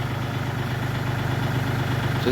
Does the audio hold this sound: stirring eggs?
no